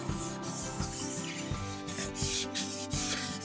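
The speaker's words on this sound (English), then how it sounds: "I like to use one of these shop towels to just kind of gently burnish down anything that is up" A shop towel gently rubs and burnishes a decor transfer onto a painted dresser, making soft, continuous scratchy strokes close up with a steady back-and-forth rhythm.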